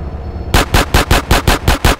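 Rapid, loud automatic gunfire from GTA San Andreas rattles in a steady burst of about eight evenly spaced shots, close and dominant after a brief lull.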